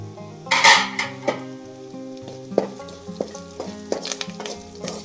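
Curry leaves and powdered dried chili hitting hot oil, sizzling and spitting with bursts of crackle, mixed with what sounds like background music and occasional utensil clinks.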